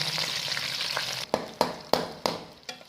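Onions sizzle as they fry in about four spoons of hot oil for Sialkoti-style roasted chana dal, a steady hiss broken by five sharp clattering strikes near the end.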